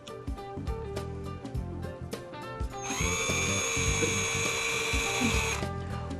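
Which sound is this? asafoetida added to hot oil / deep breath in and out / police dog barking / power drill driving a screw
power drill driving a screw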